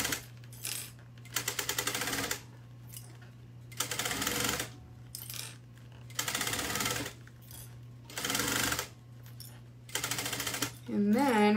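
A sewing machine stitches a seam an eighth of an inch from the edge in repeated rapid whirring bursts of about a second each, separated by short pauses. Someone talks quietly between the bursts.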